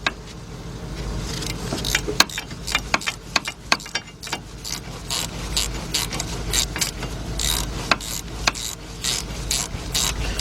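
Ratchet turning an 8mm shallow socket to tighten a bolt on a Ford Explorer during front hub work, a run of quick clicking and ticking strokes, irregular and close, over low background noise.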